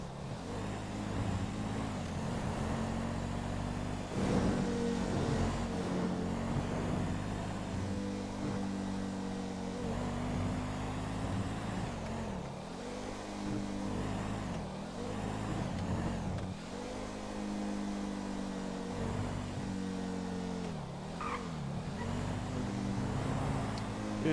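An old-engined car in a GTA roleplay server drones along with a low, steady motor hum that surges and sags in repeated mild revs, fairly quiet and continuous, with no talk over it.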